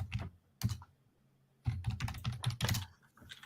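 Someone types on a computer keyboard close to the microphone, quick bursts of clicking keys separated by short pauses, fairly quiet and with no talking.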